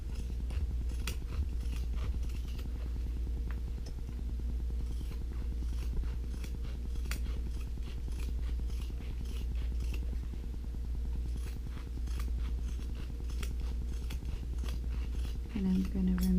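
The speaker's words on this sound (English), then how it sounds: "Now I want to trim off all this excess." Scissors trimming excess fabric from a sewn passport wallet cover, with rapid repeated snipping clicks over a steady low hum, close by.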